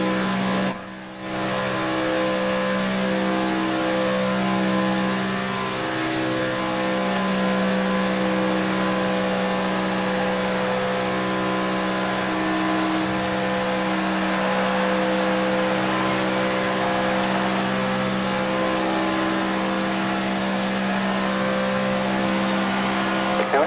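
Race car engines in the NASCAR 3 video game, a steady loud droning whine held for over twenty seconds with a brief dip near the start, no talk heard.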